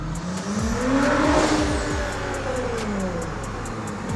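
Audi 3.1 engine revving hard with its tires spinning, a loud, sustained roar with rising and falling harmonic sweeps and turbo whine on top, close by with no talking.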